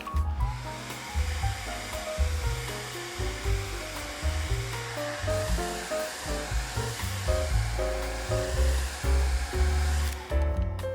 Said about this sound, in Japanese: ドライヤーで乾かします。